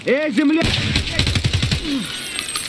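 Rapid automatic gunfire from a high-recoil gun in the video game Escape From Tarkov, a loud, fast burst of shots following a brief spoken voice at the start.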